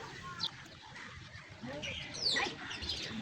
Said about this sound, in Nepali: यो चाहिँ सुगा भयो होइन गाइस